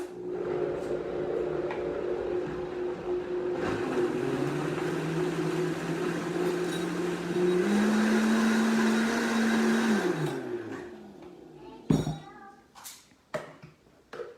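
A blender blending broccoli soup whirs loudly and steadily, its motor pitch rising partway through before it winds down and stops, followed by a few clunks.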